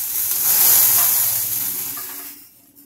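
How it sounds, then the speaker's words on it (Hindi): Hot oil poured over a tomato chutney gives a loud, hissing sizzle that swells quickly, holds, then fades away toward silence, close up and with no talk. "बस टिकने के लिए मैं इसके ऊपर तेल गरम करके डाल रही हूँ।"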